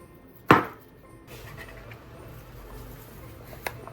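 Bouillon cubes tossed into a pot of potato and cheese soup, one sharp close thud followed by quiet bubbling and a faint later click.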